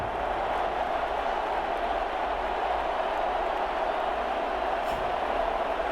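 Video game stadium crowd in Madden 21 before a Jacksonville Jaguars versus Houston Oilers game, a steady, even roar of many voices with no distinct peaks.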